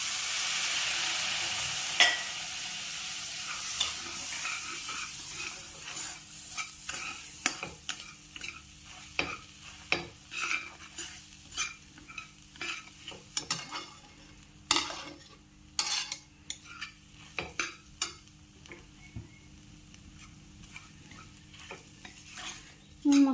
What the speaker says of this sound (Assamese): মছলাখিনি ভজা হৈ গৈছে, এতিয়া মই বেঙেনাখিনি দি দিম।